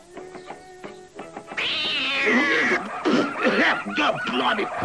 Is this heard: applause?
no